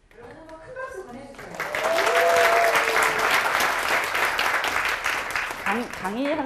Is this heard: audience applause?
yes